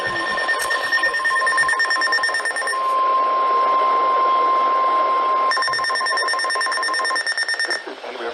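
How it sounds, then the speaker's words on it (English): National Weather Service weather radio public warning alarm tone during a test of the warning system, a loud continuous steady tone held for several seconds alone, with pulsing beeps at the start and end. "the National Weather Service has just activated the public warning alarm tone in the test of the weather radio's warning alarm system"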